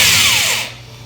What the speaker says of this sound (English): inside the cabinet, once again, we're using this awesome drill bit extender